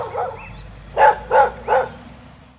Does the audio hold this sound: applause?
no